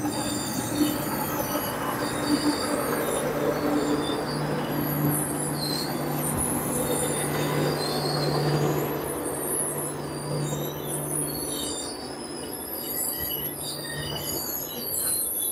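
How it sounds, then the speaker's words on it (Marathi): The Mandovi Express stands on the monsoon route to Mumbai CSMT, its wheels squealing in thin high tones over a continuous, close rumble of rail cars. "तर ही आहे मांडवी एक्सप्रेस"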